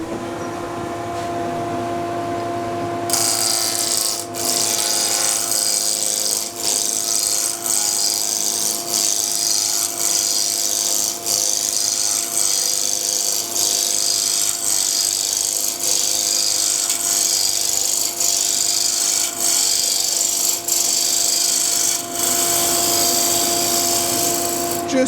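A wood lathe spins a skittle blank at about 1800 rpm while a spindle roughing gouge takes it down toward a cylinder, giving a steady, loud, continuous rasping scrape over a constant dust-extractor hum for the whole stretch.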